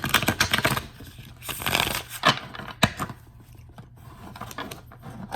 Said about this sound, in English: get another shuffle here